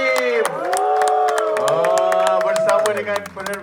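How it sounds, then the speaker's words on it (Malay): A crowd cheers, whoops and claps at a Malaysian film premiere for Pewaris Susuk, with loud sustained voices and sharp scattered claps filling the space. "Kita berikan tepukan."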